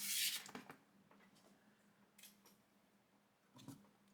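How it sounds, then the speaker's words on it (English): Quiet snips of scissors slicing through cardstock, a few separate cuts with pauses between them, close by and faint, no speech. "Just easier with a bigger pair of scissors."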